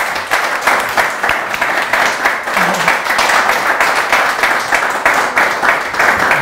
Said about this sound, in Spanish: Vamos a dejar que pasen esos aplausos.